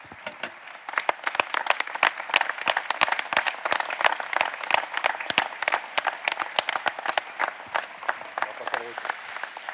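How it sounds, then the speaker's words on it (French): An audience at a concert in Beynat applauds steadily and warmly, dense clapping swelling after the first second and holding strong to the end. "qui allons applaudir le public venu si nombreux ce soir"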